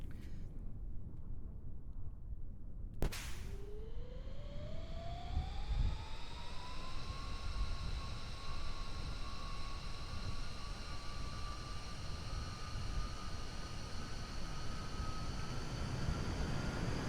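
An aircraft in Kerbal Space Program runs a simulated high-speed taxi: a sharp click, then a steady engine whine that rises in pitch and holds, loud and continuous with no talking.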